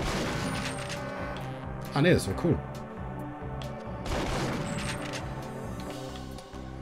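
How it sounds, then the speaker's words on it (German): Shotgun blasts from the video game Perfect Dark sound during a timed silver-level shooting challenge, a couple of loud bursts near the middle and another later, over game music with someone talking throughout. "Schrotflinte."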